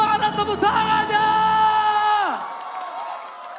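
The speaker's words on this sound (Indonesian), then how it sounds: "MPL Arena, mana tepuk tangannya?" A crowd at a Mobile Legends esports arena roars and cheers loudly, a dense wash of shouting voices that fades off near the end, with no talk over it.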